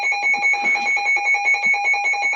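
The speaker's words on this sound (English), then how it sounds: "Oops, there goes the alarm again." Alarm going off in a home kitchen, a loud, close electronic beeping in rapid, even repeated pulses with a steady pitch, sounding alone without voices.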